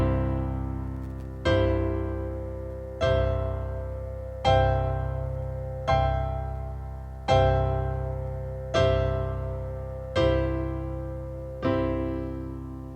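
Piano chord inversions over a left-hand C octave with G in the middle, sustain pedal held so the notes blend. Nine ringing chords strike at an even, unhurried pace, each decaying into the next, close and clear with no talk.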